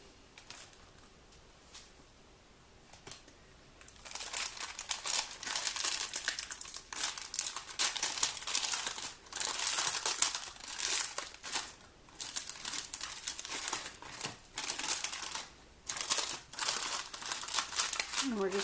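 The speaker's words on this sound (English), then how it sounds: "Get out a pack of those. And just cut those open." Plastic wrapper of a pack of s'mores treats crinkling and rustling as it is cut open, a quiet start giving way to dense, steady crackling and crumpling bursts close up, with no talking.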